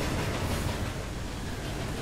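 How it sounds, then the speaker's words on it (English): Ghost train rushing past in the video game Murdered: Soul Suspect, a loud, continuous rumbling roar with rolling rail clatter that stays heavy and close throughout, with no voices. "And the train's gonna come by."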